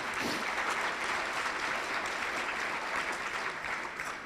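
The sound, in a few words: applause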